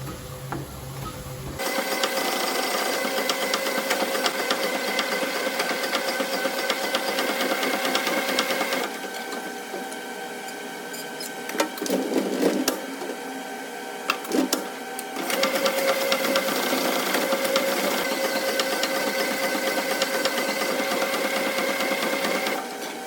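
An LS3 engine block with torque plates fitted gets its cylinder bores honed using a diamond honing stone, producing a steady, close mechanical whirring and grinding drone that briefly pauses and resumes with a few clunks, with no speech.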